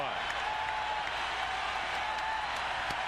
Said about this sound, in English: And the crowd into it big time now here in Oakland.